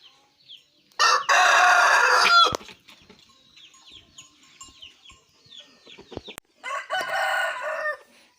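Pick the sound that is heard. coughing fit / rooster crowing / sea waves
rooster crowing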